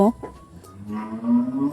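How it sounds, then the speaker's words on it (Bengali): A cow moos loudly and close by, two drawn-out lowing calls with a short pause between them. "আমাদের গরু এত বেশি ডাকতেছে যে আমার ভয়েস দিতে ডিস্টার্ব ফিল হইতেছে"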